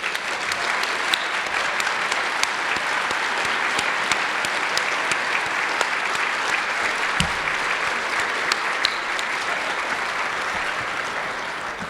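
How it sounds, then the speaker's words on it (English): A large audience applauds steadily for the whole stretch at a community gathering, a dense, even wash of clapping with scattered sharper claps standing out, no speech over it. "We would like to give you a round of applause"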